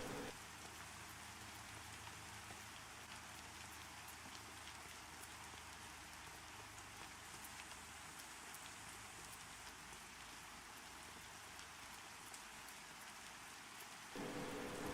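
Rain spell in the game Pantheon: Rise of the Fallen, a steady dense hiss of falling rain holding evenly for about fourteen seconds with no other sounds over it.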